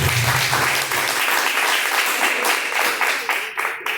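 A church congregation claps in praise, a dense loud burst of applause that holds steady for several seconds before thinning slightly, with faint voices mixed in.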